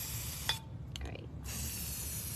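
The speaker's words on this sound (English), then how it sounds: "I'm just taking my spray paint and creating the pattern that I want." Green spray paint hisses onto an iPhone in two steady bursts with a short pause between them, close and fairly loud.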